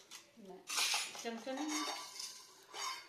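A spoon clinking against steel dishes during a home meal, with several quick metallic taps and rattles close by, short and fairly faint, with a faint voice nearby.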